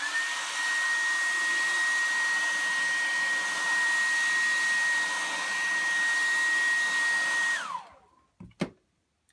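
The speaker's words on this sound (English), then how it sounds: "use a hairdryer to warm the visor up and clean it" Hair dryer blowing hot air onto a motorcycle helmet visor, a steady loud whooshing roar with a constant whine running several seconds before switching off, followed by a couple of faint clicks.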